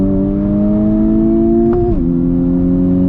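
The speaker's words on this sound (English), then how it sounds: "We begin with second gear. Okay. Take a look. Full throttle. Stay in gas." A Honda Civic Type R FK8 pulling hard at full throttle in second gear, a loud steady engine drone holding pitch, then a brief dip and settle around a gear change, heard from inside the car.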